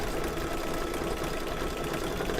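Embroidery machine stitching a gummy mushroom design onto an in-the-hoop mug rug, giving a continuous dense mechanical whir with fast needle chatter at close range.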